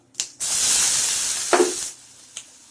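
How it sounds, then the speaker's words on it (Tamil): Garlic hits hot oil for neem flower rasam, setting off a loud, steady sizzle that fills most of the moment, with a brief clatter at the start and a louder burst of spitting partway through before it fades. "இப்போ பூண்டை போட்டுடலாம்"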